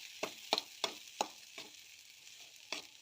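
Cooked rice stirred into egg in a pan: about seven scraping strokes of a spatula at an irregular rhythm over a faint sizzle, with no voices.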